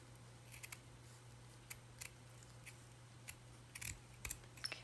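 Scissors cutting apart a burlap flower, a few faint, crisp snips at irregular intervals over a low steady hum, close by with no talk.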